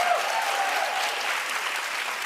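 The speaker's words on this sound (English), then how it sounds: "we should give her a round of applause for her new debt" A studio audience applauds, a smooth, even wash of many hands clapping at once, sustained through the whole moment without pause.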